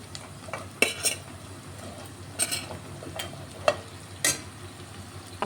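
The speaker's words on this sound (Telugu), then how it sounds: "ఇప్పుడు బెండకాయ ముక్కలు వేసేస్తాను" Okra pieces frying in oil with ginger, garlic and turmeric for an okra pulusu, a soft sizzle under scattered sharp clicks and knocks of a utensil against the pan, no talk.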